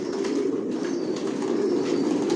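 Racer pigeons coo steadily in a loft, a continuous low murmuring from several birds close by with no talk.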